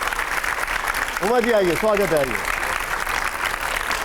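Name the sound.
loud applause welcoming Uma Bharti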